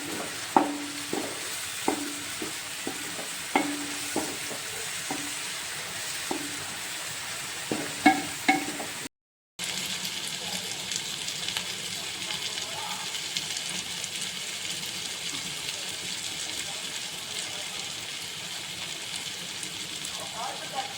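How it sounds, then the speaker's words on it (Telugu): Ginger garlic paste fries in a pan with a steady, close sizzle, punctuated by stirring scrapes in the first half before a brief gap, then continuing as an even hiss. "అల్లం వెల్లుల్లి పేస్ట్ కొంచెం వాసన పోయేంత వరకు మనం ఫ్రై చేసుకోవాలి"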